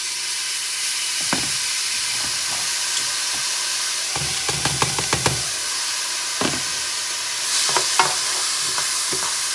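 Black rice tumbles into a big pot over high heat and crackles there, with a steady loud hiss and irregular sharp sizzling pops and stirring scrapes, close by.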